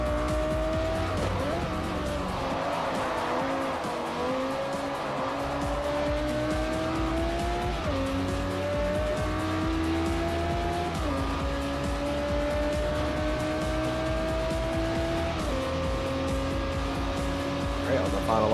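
A Lexus LFA in Forza Motorsport 4 racing with its engine revving steadily through repeated upshifts, tires squealing as the tail kicks out, loud and continuous with someone talking over it.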